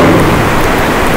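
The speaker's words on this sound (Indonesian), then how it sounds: "Wah, hujan." Steady heavy rain pouring down, a dense continuous hiss with no breaks, loud and enveloping.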